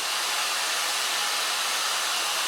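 A hair dryer blows hair dry during a short haircut, giving a loud, constant airy roar that fills the whole stretch with no pauses and no voices.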